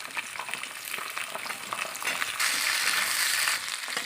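Onion added to hot oil with garlic and ginger for chilli chicken sizzles steadily up close, the frying growing louder and denser partway through, with no voices.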